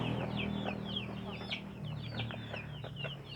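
Free-range village hens, some of them sick with worms, cluck in a steady stream of short, repeated calls over low farmyard background noise. The calls overlap at close range and keep going without a break.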